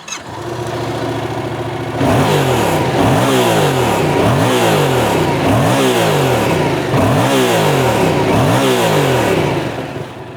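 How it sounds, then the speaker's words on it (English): A Yamaha MT-07 with a 270-degree-crank parallel-twin engine and stock exhaust idles, then revs hard in a steady series of about six rising and falling throttle blips, loud and close with no talk. "Let's have a little listen to both bikes, starting with the MT-07, which is a parallel twin, 270-degree crank"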